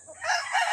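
A gamefowl rooster crows at a breeding farm in Pampanga, one loud, close, rising call, cut off before it ends.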